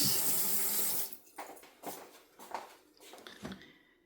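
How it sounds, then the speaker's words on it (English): Tap water running over fingers at a sink, a steady rush for about a second, then broken splashing bursts as the hands move under the stream, close and moderately loud. "Rinse my fingers."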